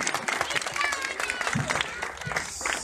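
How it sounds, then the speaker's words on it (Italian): An outdoor crowd at an ecological group bike ride applauds the cycling club president, scattered clapping mixed with chatter and voices throughout. "Un applauso al presidente"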